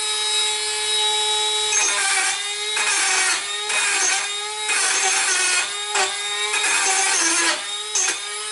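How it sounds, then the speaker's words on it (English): On a 2024 GMC Sierra 2500 HD Duramax, a power tool grinds down the battery tray studs with a steady high whine, interrupted by brief dips as the tool bites and lifts off the metal. "grinding these studs down is worthless"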